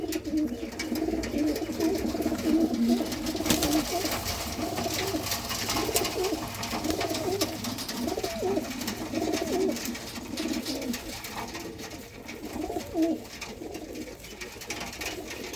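Pigeons of breeding stock kept for sale coo repeatedly in soft, throaty rolls, several birds overlapping at close range against a low background hum.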